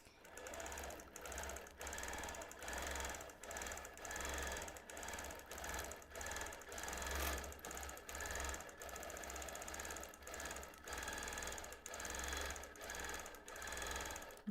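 A long arm quilting machine stitches at high speed in a fast, continuous mechanical rhythm, with slight pulsing and brief variations throughout.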